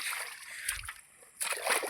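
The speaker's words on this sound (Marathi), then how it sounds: "पाणी खूप जोरात येतं आहे" Water rushing hard past an earthen bund on a Konkan stream during traditional bailing-out fishing, a steady broadband splashing wash that briefly dips quieter midway before surging back, with faint voices underneath.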